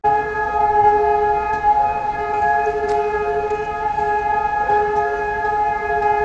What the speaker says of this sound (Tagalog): inabutan ako ng tunog ng sirena